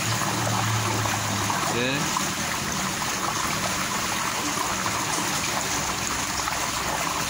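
Old water drains steadily out of a plastic pond used for raising silk worms, making a constant rushing, trickling wash that runs throughout. A person speaks briefly near the start.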